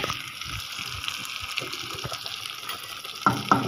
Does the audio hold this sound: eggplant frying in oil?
yes